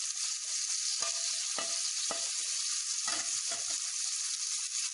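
Hot-oil tempering poured into a dish of besan dahi vade, giving a steady bright sizzle and frying hiss throughout, with a few sharp crackles and pops, close and with no talk.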